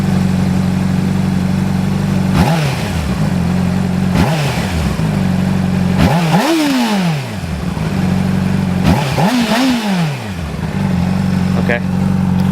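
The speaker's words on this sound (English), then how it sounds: "2008 CBR 600RR stock exhaust is warmed up, so we're going to give it a little bit of a rev here." A 2008 Honda CBR 600RR sport motorcycle with its stock exhaust, warmed up, idles close by and is blipped through four sharp revs that climb and fall back to a steady idle.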